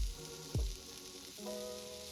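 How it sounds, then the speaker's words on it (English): A seasoned burger patty sizzles in a piping hot cast iron pan, a close, steady frying hiss with a low thump as the patty lands, and no voices over it. "If the pan is hot enough, you should be met by the glorious sound of a nice sizzle."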